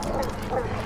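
A dog in the video game Die Young gives a short, close bark with a whimpering edge, a single brief burst standing alone.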